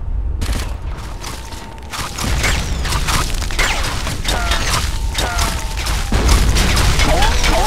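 Gunfire from an enemy bunker in the military video game ArmA 2, a sustained barrage of loud shots and booming impacts running throughout with dense crackling bursts, mostly alone with little talk.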